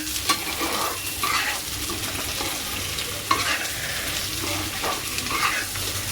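Potato masala curry frying in a pan and being stirred makes a continuous sizzle, broken by repeated scraping and stirring strokes close by, with no talking.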